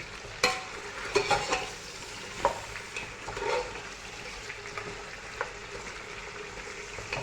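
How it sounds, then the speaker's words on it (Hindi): Beef trotters (paya) frying in a pan, giving a steady low sizzle broken by several sharp clicks and scrapes from stirring, heard close with no talking. "ये देखिए अब ये फ्राई हो रहा है।"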